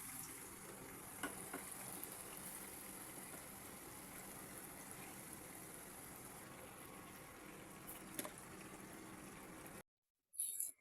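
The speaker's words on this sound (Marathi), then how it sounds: "असं कोटिंग करून आता याला तेलामध्ये तळूया." Potato vadas in a gram-flour coating deep-fry in hot oil in a Maharashtrian kitchen, giving a steady, close sizzling hiss with occasional pops before a sudden brief cut near the end.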